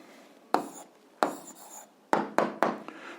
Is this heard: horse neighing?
no